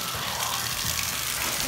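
Water gushes steadily from a bathtub spout in a shower with a stuck diverter, a loud, continuous broadband rush that stays even throughout with no talking.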